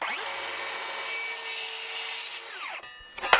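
A circular saw whines steadily through wood for a couple of seconds, then winds down, followed by brief clatter and a sharp knock near the end.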